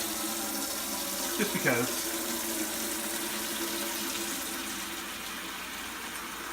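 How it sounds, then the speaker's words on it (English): A kitchen tap runs cold water into a container in a steady, moderate gush, with a short voice briefly heard early on over the flow. "I'm gonna use cold water"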